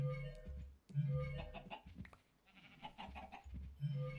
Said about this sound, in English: Can't learn anything from the sheep.